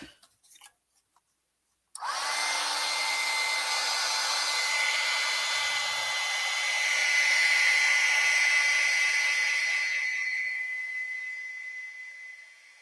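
A heat dryer roars on after a couple of seconds of near silence, blowing steadily and loudly up close to dry an embossed spring pansy and leaf craft piece, swelling slightly midway before tapering off at the end.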